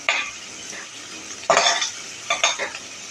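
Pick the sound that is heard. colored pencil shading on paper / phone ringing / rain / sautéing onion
sautéing onion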